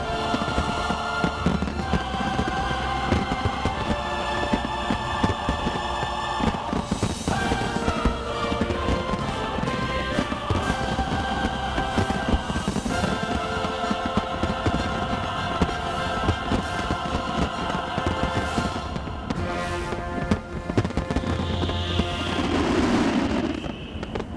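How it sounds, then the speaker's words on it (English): A large fireworks display celebrating the 20th anniversary of Macao's return crackles and booms continuously, dense overlapping bursts mixed with music and wind buffeting the microphone throughout. "What a fantastic fireworks extravaganza here taking place in"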